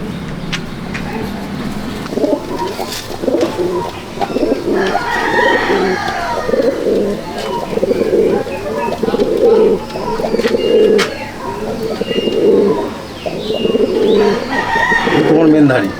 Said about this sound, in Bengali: এটা মাদি পায়রা, ওই নরেরই মাদি, জোড়া মাদি